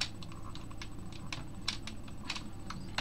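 Keys clatter on a computer keyboard as chat commands are typed in a game: quick, uneven clicks close to the microphone, with no one speaking.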